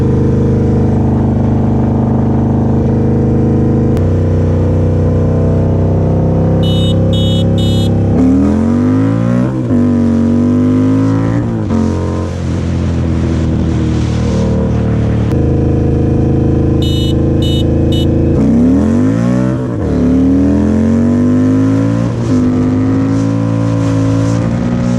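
Two Indian motorcycles, a 2018 Scout Bobber with a Stage 1 upgrade and a Chief Darkhorse, race each other. Loud, close engine roar runs continuously, with revs climbing and sharp dips at gear changes, and no talk.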